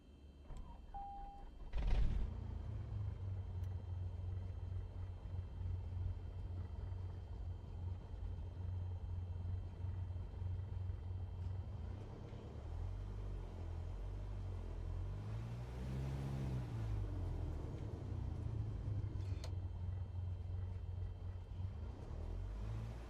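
A game aircraft engine drones steadily in a cockpit as the throttle shifts, its low rumble rising and falling in pitch, with a sharp click near the start and a brief beep, continuous and moderately loud.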